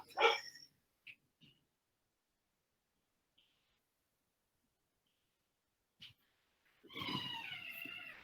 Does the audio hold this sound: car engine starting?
no